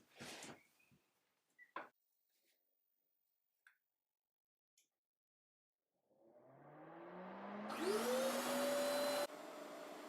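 Shop vacuum in a woodworking shop switched on by remote: after a few scattered clicks and knocks, the motor spins up with a rising whine and settles into a loud, steady roar.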